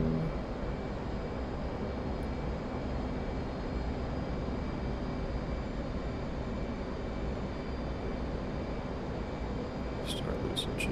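An F/A-18C jet engine in the DCS World flight game, flown during carrier operations, gives a steady broad roaring drone that holds evenly throughout at a moderate level as power is added into a turn.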